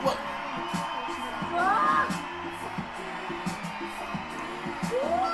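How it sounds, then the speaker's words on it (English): A crowd at a wrestling tournament cheers and whoops, with yells and shouts rising and falling in the distance beneath a steady commentary voice. "The crowd seems to love it."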